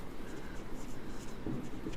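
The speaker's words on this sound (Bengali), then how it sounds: "আমি এখানে এটার ব্যাখ্যাটা লিখে দিচ্ছি" Marker or chalk strokes scratch across a board in short, steady bursts during a finance formula lecture, close and continuous under a faint room hum.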